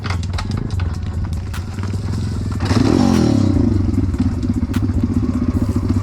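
Bastos MXF 140cc dirt bike engine running loud and close, a rough rattling motor that surges and rises in pitch partway through before settling into a steady uneven thrum.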